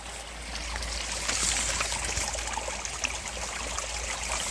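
Clear, clean stream water pours down a wide valley from a waterfall, a steady broadband rush and trickle that stays close and constant throughout, with no voices.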